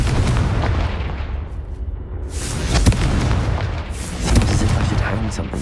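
Fiery Confringo spell blasts from Hogwarts Legacy, a dense roaring rumble with several sharper explosive bursts rising out of the continuous noise, loud and close.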